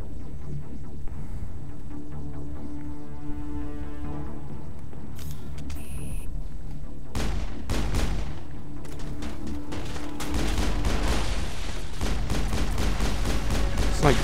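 Hip-fired weapons in Mass Effect, rapid bursts of gunfire and heavy booms layered over game music and effects, growing denser and louder toward the end.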